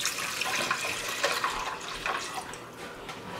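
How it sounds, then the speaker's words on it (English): Water is poured into a pot holding cloves and cinnamon sticks for syrup, a short, steady splashing gush heard up close. "So I'm gonna add my water."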